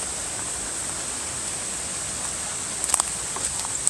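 Falling water from a waterfall near a walking trail gives a steady, even hiss throughout, moderately close, with a few faint clicks or footsteps near the end and no talk.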